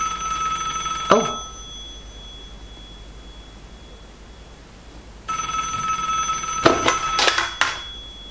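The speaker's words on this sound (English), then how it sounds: "And then the phone rang after it" Telephone ringing in The Sims video game, a short bright ring followed by a pause and then a longer burst of sharp electronic ringing tones, alone without talk.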